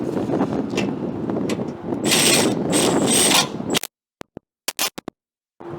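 Ratchet clicks while a gray bolt is tightened on the front end of a 2014–2021 Toyota Tundra during an end cap swap, with steady workshop noise first, then several short sharp bursts separated by silence.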